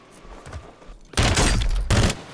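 Gunfire erupts in a Warzone match as two loud, close bursts of rapid shots, the second shorter, following a quieter stretch of faint distant pops.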